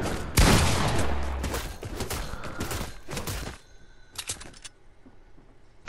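Rapid gunfire from the Fortnite video game, a dense burst of loud shots and rattling volleys that thins out after a few seconds into scattered, fainter pops.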